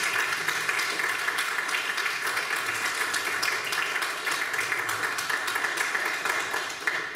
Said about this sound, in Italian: Un applauso per la giuria.